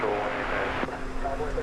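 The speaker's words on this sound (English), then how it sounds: "it appears this plane made it go around from runway 13 right, which is the crosswind runway." An airplane going around from runway 13 right, the crosswind runway at DFW Airport, gives a steady, fairly distant broadband engine roar under ongoing talk.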